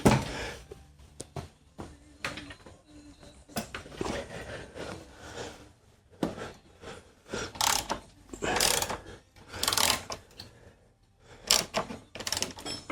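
A wrench loosens a rear engine mount bolt, a 19 size, producing repeated close ratcheting clicks and metallic clanks in irregular bursts, with quieter handling noise between them.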